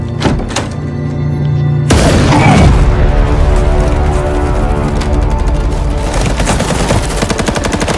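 Gunfire from a gang shooting indiscriminately in an action movie about a Mexican cartel, loud dense bursts of rapid shots and impacts continuing for several seconds after a brief quieter start, with a music or effects score underneath.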